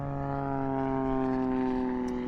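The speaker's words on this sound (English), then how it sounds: "So here is Ekaterina Volkova, the US Unlimited team, also flying a 330 SC." Extra 330 SC aerobatic aircraft in flight at an aerobatics championship, a steady droning propeller and engine tone with strong harmonics, held close and loud for the whole stretch with no pause.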